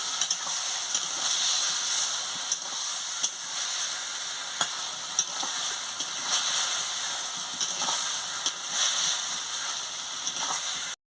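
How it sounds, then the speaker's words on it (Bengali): Fried vegetables sautéed with spice paste for a bottle gourd stem, potato and eggplant curry, a steady hissing sizzle lasting throughout with faint occasional clicks of stirring. "মশলার সঙ্গে দিয়ে আনাজগুলো দিয়ে ভালো করে কষিয়ে নিচ্ছি।"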